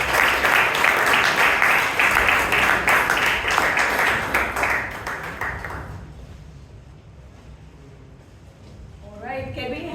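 A club meeting audience gives a round of applause for the role takers, loud dense clapping for about six seconds that then fades away, after which a voice begins speaking near the end.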